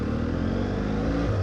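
Steady, close engine hum of a motorcycle leaning through a roundabout, loud and continuous with slight rumble, heard from a BMW F 700 GS rider's perspective.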